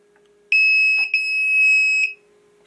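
An incubator's control panel gives a loud, piercing electronic beep lasting about a second and a half as its menu buttons are pressed, with a brief click partway through.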